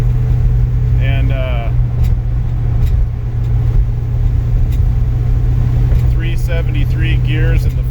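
A 1955 Chevy hardtop with a 383 engine on Holley Sniper EFI drives along with a steady, loud low rumble, while people talk over it in two short bursts.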